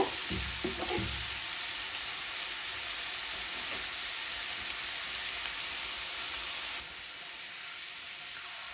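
Chicken sizzles steadily in a hot pan, a soft continuous crackle with a few stirring clinks at the start.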